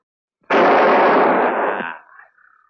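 A single loud, sustained blast in a 1970s Hindi film scene, roughly a second and a half of dense roar that cuts off and trails into a faint, fading tail.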